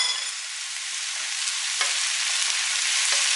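Onion and garlic cloves frying in hot oil in a casserole pan, a steady, bright, close sizzle running continuously with a few faint stirring clicks.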